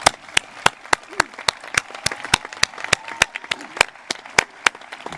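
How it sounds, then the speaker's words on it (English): High school commencement audience applauding a counselor, a run of sharp, evenly spaced claps with the sparse slapping of a smaller group rather than a dense ovation. "Let's all applaud him and give him the recognition he deserves."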